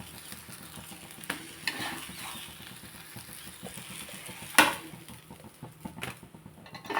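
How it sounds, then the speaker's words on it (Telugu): A dosa frying on a pan, a soft steady sizzle with stirring and scraping, a few light clinks of utensils and one sharp metallic tap, close and fairly quiet with no talk. "ఈరోజు టిఫిను దోశలు వేసాను"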